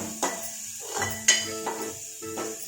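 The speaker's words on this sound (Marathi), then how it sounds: "हे चांगलं आपलं परतून घ्यायचं आहे।" Ajwain is sautéed as a tempering in a pan for Malvani pavta usal, with spoon scrapes and light metallic clinks against the pan over a faint, continuous sizzle.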